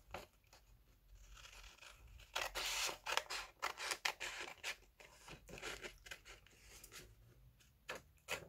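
Scissors cutting across envelope paper for a papercraft pocket project, giving a run of close crisp snips and rustling paper crunches that repeat unevenly for several seconds.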